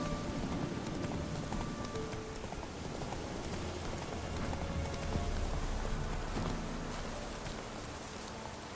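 Horse hooves gallop in The Witcher 3, a continuous run of close, rapid clip-clop hoofbeats under steady rain-like noise with no talking.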